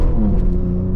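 A BMW fitted with a mid-pipe exhaust revs loudly and close for a brief moment, giving a steady harmonic engine drone with a short rising whine and no talking.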